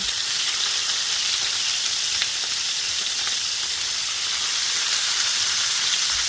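Rabbit meat fries in a pan with a loud, steady sizzle and hiss, close by and continuous, with no talking.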